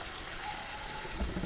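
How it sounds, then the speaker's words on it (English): Water is poured into a jar of sweet chili sauce while cooking pork and egg fried rice, a short, soft, steady trickle heard alone. "So I'll put a little drop of water"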